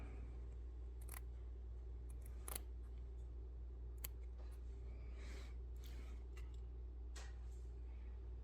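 Scissors snip felt around a finished stitched bunny, with sparse soft cuts at irregular intervals over a steady low background hum.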